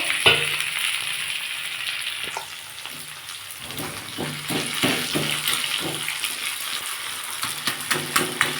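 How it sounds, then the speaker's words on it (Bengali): Fish head dropped into a pan of frying vegetables for nate shak chachchodi, giving a steady close sizzle with scattered crackles and stirring clatter throughout, no voices. "আমার এই সবজিগুলো ভাজা হয়ে গেছে আমি এবার মাছের মাথাটা একটু দিয়ে দেবো"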